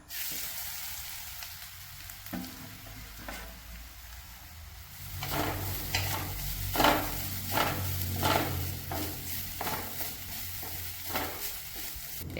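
Grated coconut dropped into hot coconut oil in a pan, starting with a quiet hiss that swells into a louder steady sizzle, broken by rhythmic scraping strokes of a stirring spoon.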